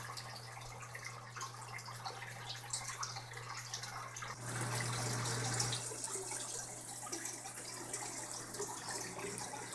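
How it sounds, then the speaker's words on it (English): Water runs steadily into an aquaponic grow-media bed, a continuous close trickling and splashing that swells louder about halfway through, with no talking. "the left media bed filling with water"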